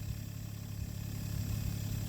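Compact tractor engine with hydrostatic drive running during brush cutting, a low steady mechanical drone with a faint throbbing pulse, moderately close and slightly building toward the end, no talk.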